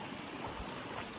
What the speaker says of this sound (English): We're walking along a creek here.